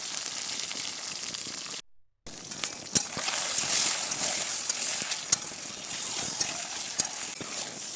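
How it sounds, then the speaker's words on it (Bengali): Eggs fry in hot mustard oil with salt and turmeric, giving a steady, soft crackling sizzle with small pops, briefly cut to silence near the two-second mark, then resuming evenly. "ডিমগুলো ভালো করে ভেজে নেব"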